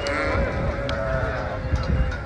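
Sheep bleat repeatedly over a dense crowd murmur at a busy livestock market, the calls loud and close with steady background chatter and noise.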